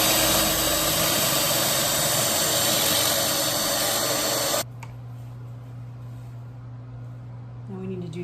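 A power drill fitted with a depth collar bores into material at an angle, its steady motor whine loud and continuous before cutting off abruptly, leaving a low residual hum.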